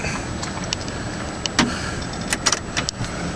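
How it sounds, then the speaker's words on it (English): Scattered crackles and small creaks pop irregularly from the steering as the wheel turns, over a low steady car hum, close and fairly faint. "it sounds like a barrel of pop rocks when you turn the steering wheel."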